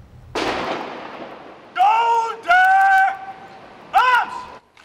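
Ceremonial cannon fired at a governor's swearing-in ceremony in the Cayman Islands: one loud, close boom with a long rumbling decay, followed by several separate sustained tonal horn-like notes.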